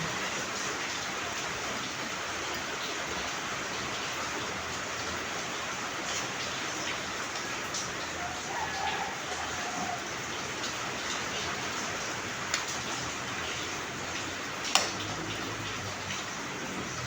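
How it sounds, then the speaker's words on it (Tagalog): Heavy rain pours steadily in a Philippine home, a dense continuous hiss of downpour drumming on surfaces with scattered louder drips and splashes, near and unbroken, no voices. "Pati kusina ko guys, baha. Sa lakas ng ulan."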